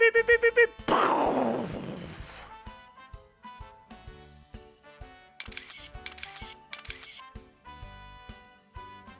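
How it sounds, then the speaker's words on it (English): A camera shutter in NEKOPARA Vol. 4 snaps off a few quick clicks while taking a photo, following a burst of rapid beeps and a short noisy whoosh, with sharp repeated clicks through the rest. "The shutter then makes a few snaps as it takes the photo."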